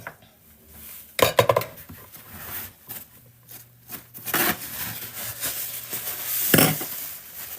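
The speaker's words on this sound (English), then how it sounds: "So we put the bowl away." A mixing bowl is put away in a home kitchen after whipping cake batter, with loud clattering knocks of dishes and utensils, then scraping and rattling that builds to a second sharp clatter near the end.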